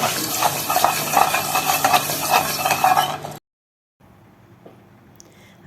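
Vermicelli frying in a pan for Egyptian koshari, stirred with a utensil that scrapes and clinks against the pan over a busy sizzle, then a sudden stop, a brief silence and faint quiet sizzling.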